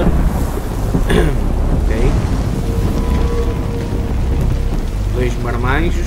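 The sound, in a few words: rain and thunder in The Last of Us Part II trailer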